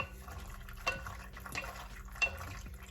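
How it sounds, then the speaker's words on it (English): Pasta water is splashed into pesto and stirred in, heard as quiet wet clicks and a couple of sharp spoon taps against the bowl in a soft kitchen setting. "just get a little bit of pasta water, not too much to start"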